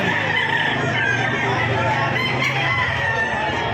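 Roosters crowing loudly and close among many chickens at a place where fowl are sold, with clucking throughout and faint voices in the background.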